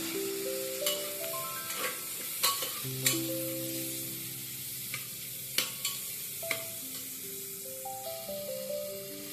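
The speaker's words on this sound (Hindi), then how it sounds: "मसाला अच्छे से भुन गया है, देख रहे हैं मसाला तेल छोड़ रहा है" Tomato masala frying in oil for a veg biryani, a soft sizzle punctuated by sharp, irregular clinks and scrapes of a spoon stirring against the pan, with no voices.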